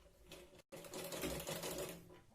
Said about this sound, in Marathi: या पद्धतीने याला वरती घेत आपण शिलाई याच्यावरती लावून घेतोय.